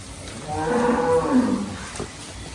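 A single deep, drawn-out lowing call from a bull at a cattle market in Dhule, fairly close, lasting about a second and a half before fading.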